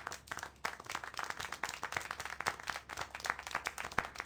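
Applause in the video game Syberia: The World Before, a steady patter of many hands clapping at moderate level with no speech over it.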